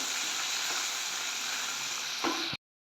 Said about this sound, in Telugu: తర్వాత పిండి అంతా మంచిగా కలుపుకొని పునుగులు అయితే వేసేసుకున్నాను